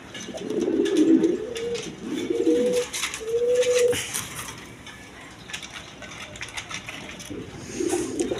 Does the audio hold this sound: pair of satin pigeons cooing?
yes